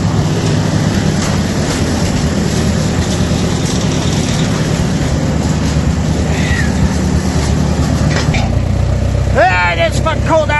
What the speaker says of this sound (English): Evil is pretty sure the tractor is warmed up now.